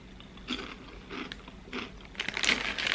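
Hollow Korean cracker snacks crunched and chewed up close, several crisp bites in a steady rhythm growing louder toward the end, with no talking.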